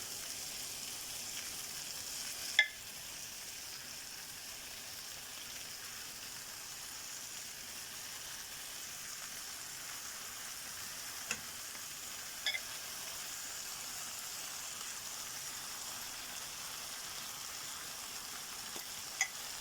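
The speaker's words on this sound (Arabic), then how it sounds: "هننزل بقى بقطع الفراخ كده اهي" Marinated chicken pieces frying over high heat in a pan, a steady soft sizzle throughout with a few faint clicks and taps.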